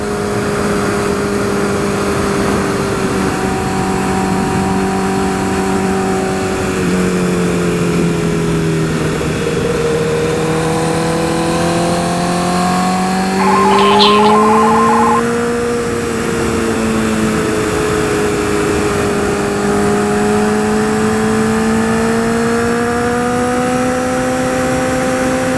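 A 2012 Honda CBR 1000RR sport motorcycle engine pulls steadily in fourth gear, a sustained loud drone that rises and falls in pitch over the ride, with a brief swell midway and constant wind and road noise beneath.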